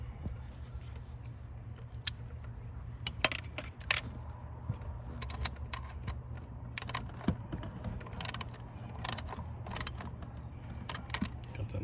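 Socket wrench with a smaller socket ratcheting on the glow plug heater module of a 2003 Chevrolet Silverado 2500HD, light clicking and metallic ticks over a low background hum, close by.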